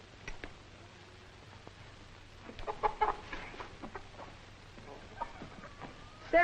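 Chickens clucking around a farmyard in a 1940 drama, scattered soft clucks and short calls over a steady low background hum, fairly close and moderately quiet, with no talking.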